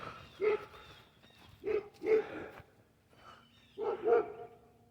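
A dog barks outdoors on a ranch several times in short bursts, two and then two more, moderately loud with a slight echo and no talking.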